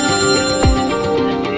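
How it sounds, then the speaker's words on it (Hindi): A phone rings with an incoming call, a loud, close electronic ringtone warbling steadily in repeated tones with no talk. "उनके भाई का फोन आ गया।"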